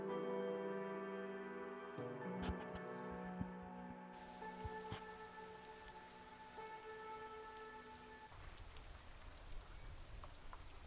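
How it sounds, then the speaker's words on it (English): Rain falling in Disco Elysium, a constant hiss of drops spread evenly across the whole stretch, with faint game tones and hums layered beneath it and no voices. "So rainy."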